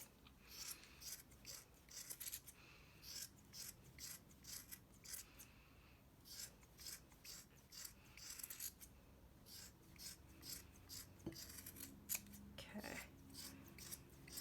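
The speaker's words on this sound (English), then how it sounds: "you're going to first just kind of trim down all these shags" Scissors make repeated close snips as they trim the shaggy yarn strands of a handmade banana pom pom, in quick irregular bursts of crisp cutting with brief pauses between, fairly quiet and with no voice over them.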